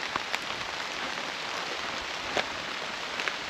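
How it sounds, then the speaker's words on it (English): Steady rain falls during a forest hike, a dense even hiss of drops on leaves and ground, with a few louder close drips standing out. "raining pretty good."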